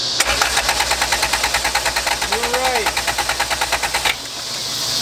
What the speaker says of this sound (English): Dude, he's cranking strong.